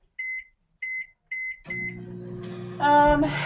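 A microwave oven heating basmati white rice gives three short, evenly spaced beeps, then starts up with a steady low running hum that grows louder toward the end.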